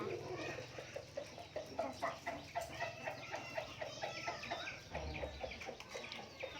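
Chickens cluck repeatedly in a rhythmic series of short calls at moderate distance, fairly soft, while people talk nearby.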